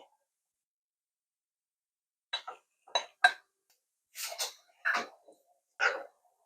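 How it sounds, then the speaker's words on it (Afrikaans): Mushrooms tossed into a pot of creamy mushroom soup base with milk and lemon juice, giving a few short, sharp clattering knocks spread over several seconds, with silence between them. "En dan gooi ek my sampioene by."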